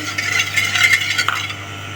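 Spoon stirring sugar into milk for a Milo jelly drink, a steady run of soft scraping and light clinks against the container, close and alone, with a low constant hum underneath.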